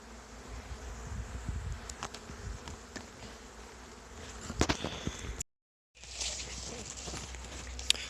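Honeybees buzz steadily around a hive in the evening, a dense droning hum close by, with occasional knocks and rustles and a brief dropout near the end.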